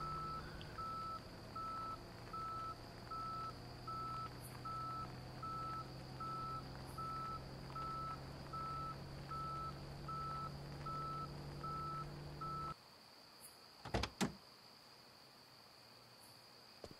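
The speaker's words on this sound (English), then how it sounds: "Why is it beeping?" A U-Haul truck in a horror video game gives off steady, evenly spaced reversing beeps over an engine hum for about twelve seconds. Then the noise cuts out, followed by a few sharp clicks and thumps.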